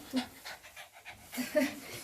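A dog pants quickly and rhythmically in short, breathy bursts close by during a snowstorm in Zakopane.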